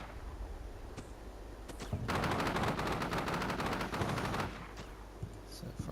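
Bursts of automatic and rifle gunfire in Combat Mission: Shock Force 2, a dense rattling volley in the middle with scattered single shots before and after, moderately distant and fairly quiet.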